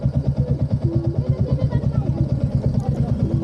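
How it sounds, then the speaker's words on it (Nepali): A motorcycle engine chugs in a steady, pulsing rhythm close by on a bridge, with faint voices in the background. "पुलबाट जाँदा बाइकहरु आइराछ नि"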